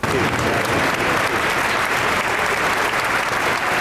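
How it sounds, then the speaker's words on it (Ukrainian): A crowd inside a cathedral applauds as the Ukrainian president arrives, dense and loud continuous clapping sustained evenly from start to finish. "президента України, якого у соборі зустрічають оплесками"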